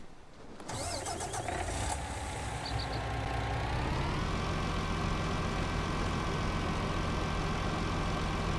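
A truck engine in Farming Simulator 19 starts up and settles into a steady, loud idle that drones on continuously with no talking.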